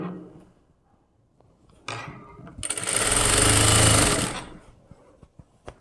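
Sewing machine stitching around the neckline of a blouse, a dense, loud run of about a second and a half after quieter handling noises, then trailing off into faint clicks.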